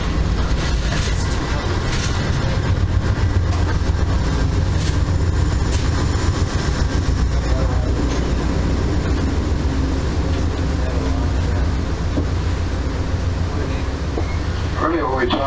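Steady rumbling and rattling inside a moving Amtrak California Zephyr passenger car, a continuous rail roar with faint clicks heard on board throughout, without pause.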